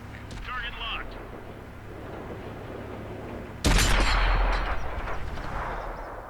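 A single heavy tank gun shot booms out midway through a World of Tanks console battle with a Tier X medium tank, loud and sharp with a rumbling tail, over a low engine drone and someone talking.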